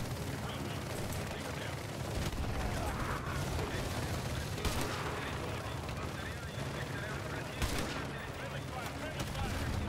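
Gunfire in MW2 Remastered, played on Veteran difficulty in the Gulag campaign mission, with dense bursts and sharp shots under a steady rumble of game sound and voices.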